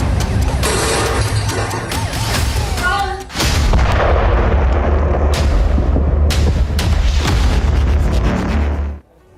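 Loud explosions and blasts in Lebanon boom and crash through a dense roar of debris and rumble, with sharp bursts repeating over continuous noise and faint voices mixed underneath.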